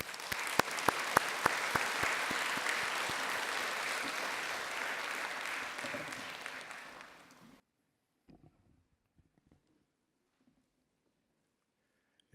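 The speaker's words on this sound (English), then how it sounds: "let's give Mr. Toki Andrea Majanto a round of applause" Audience applause at the 2018 International Peace Conference at UNESCO in Paris, a dense steady clapping that fills the hall for about seven seconds, then cuts off to near silence with a few faint scattered sounds.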